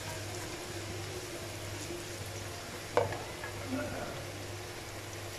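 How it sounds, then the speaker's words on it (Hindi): Garlic and ginger paste hits hot oil for a chicken rice dish, giving a low, steady sizzle and bubbling with a brief clatter of a spoon partway through. "इसी ऑयल में अब मैं लहसुन और अदरक जो है इसका पेस्ट या फिर चॉप्ड ये ऐड कर रही हूँ"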